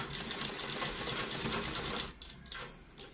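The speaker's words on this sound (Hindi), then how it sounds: "और सिलाई लगा देंगे।" A sewing machine stitching red fabric folded over buckram for a cold-shoulder sleeve, a fast even mechanical rattle heard close and alone, briefly slowing before resuming.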